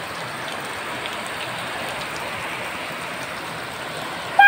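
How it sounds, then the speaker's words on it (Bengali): Heavy rain falls in a dense, unbroken hiss of drops on surfaces, steady throughout, with a brief louder thump at the very end. "খুব জোরে বৃষ্টি পড়ছে"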